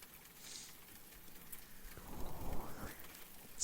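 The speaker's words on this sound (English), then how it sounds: "Rain." Rainfall in the background of a quiet ASMR session, a soft steady patter that swells louder toward the end.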